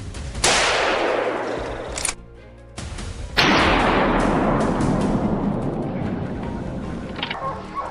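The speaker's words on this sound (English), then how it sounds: "gunfire erupts from other positions, signaling more victories for the team" Gunfire from hunters shooting invasive wild boars in woodland, two loud sharp shots a few seconds apart, each with a long rolling echo decaying through the trees.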